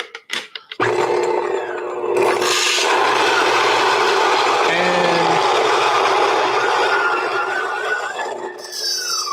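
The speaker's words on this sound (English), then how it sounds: "We're going to grind it with the setting of 6, right?" An electric burr grinder grinds coffee beans at setting 6 for a Chemex brew, starting with a sudden loud, dense whirring rasp that holds steady for several seconds before stopping abruptly.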